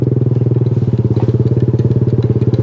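Motorcycle engine running steadily on a rough, undeveloped island road in Eastern Visayas, Philippines, with a loud, close, throbbing exhaust pulse and no voices.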